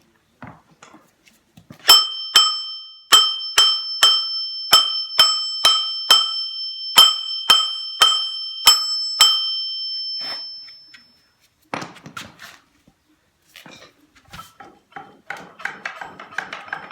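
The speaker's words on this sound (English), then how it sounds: "Next, I'm going to get the flywheel off. Going to give it a whack." A hammer strikes the flywheel of a Land Rover Series 1 engine being stripped, about a dozen loud, evenly spaced metallic blows that ring brightly, followed by quieter clattering and handling noises.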